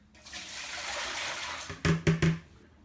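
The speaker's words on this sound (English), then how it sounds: "Tip the hard water away down the sink" Hard water gets tipped from a bowl down a sink, a steady pouring splash that ends in three quick gurgling glugs as the last of it drains away.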